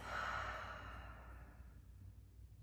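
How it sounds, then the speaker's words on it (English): A deep, slow exhale through the mouth during a gentle yoga session, a soft breathy rush that fades gradually, heard close and alone. "a deep exhale through your mouth"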